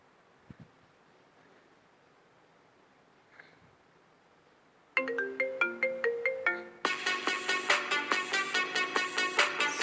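An iPhone ringtone plays after a few seconds of near silence, loud and close: a bright melodic run of plucked, marimba-like notes, then a denser repeating pattern of chiming tones.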